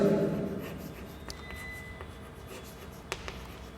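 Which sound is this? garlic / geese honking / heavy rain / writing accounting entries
writing accounting entries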